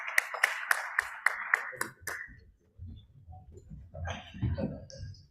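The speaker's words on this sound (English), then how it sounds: "a big round of applause for our esteemed panelists and the session chair" A conference audience bursts into applause for the panelists and the session chair. It starts as sharp, rhythmic clapping, then fades within about two seconds into murmuring chatter and movement around the room.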